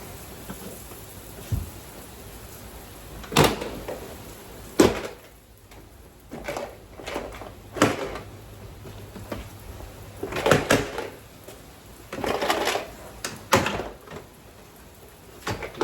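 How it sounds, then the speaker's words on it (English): Plastic clips snapping loose as a door panel is pried off a Jeep Grand Cherokee, a scattered series of sharp cracks and knocks at close range with quiet gaps between them. "Just gonna start popping the clips and take the door panel off."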